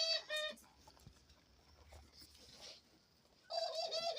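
A pet dove coos in soft repeated phrases at the start and again at the end, close and fairly quiet, with light scratching and tapping at a cage in between.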